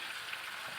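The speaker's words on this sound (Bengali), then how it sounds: "এগুলো এবার আমাকে একটু ভাজতে হবে।" Handi chicken fries in a handi pot, a brief, quiet and steady sizzle with no voices over it.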